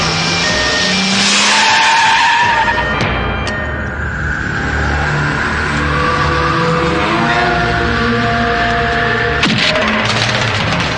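A car brakes hard and skids to a stop in a Hindi-dubbed movie scene, a loud sustained tire squeal with engine noise running for several seconds and a sharp change near the end.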